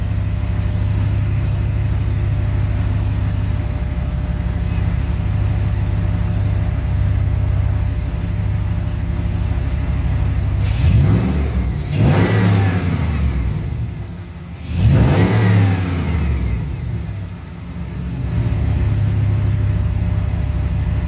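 A Jeep Commander with a 6.4 engine idles steadily, then revs twice in rising and falling surges, loud and close, with no talking.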